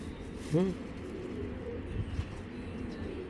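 A single coo from an old-breed high-flying Giribaz pigeon sounds briefly near the start, then only a low, steady background hum remains.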